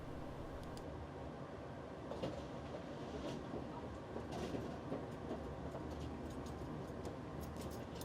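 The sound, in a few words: train riding on rails, heard from inside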